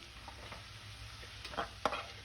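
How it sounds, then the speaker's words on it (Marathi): Ginger-garlic-chili-coriander paste frying in oil is stirred in a pan, a steady soft sizzle under a few brief scraping strokes that grow louder near the end. "ही पेस्टही आपल्याला तेलावर छान अशी परतवून घ्यायची आहे व्यवस्थित असं मिक्स करून घ्यायचं आहे"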